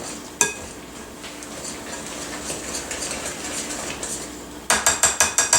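Cinnamon bran muffin batter with cranberries and walnuts stirred in a bowl, a steady close scraping swirl that ends in a run of five quick rhythmic clinks of the utensil against the bowl.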